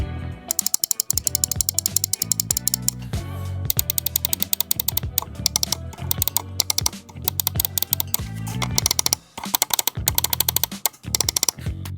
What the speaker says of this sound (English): the click that this mouse makes